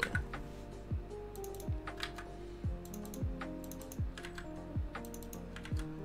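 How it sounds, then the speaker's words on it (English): Fingers tap steadily on a computer keyboard, sending out quick clicking keystrokes in irregular bursts. Low, stepped synth tones play underneath throughout. "If I could just type a little bit,"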